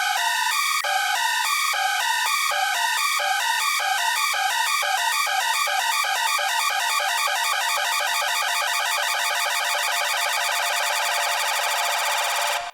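Arpeggiated synth bass patch: a rapid stepping pattern of bright tones runs alone and steadily quickens as the rate is pushed faster, ending in a dense blur of notes.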